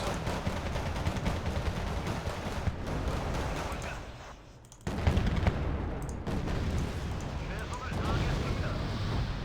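Artillery barrage in the wargame Wargame: Red Dragon during a Second Korean War campaign, rumbling blasts and crackling gunfire in a continuous roar, a brief lull then another sharp boom and renewed firing.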